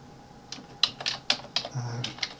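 Fingers type text on a computer keyboard while working in Microsoft Word 2019, making a quick uneven run of crisp key clicks up close with no one speaking.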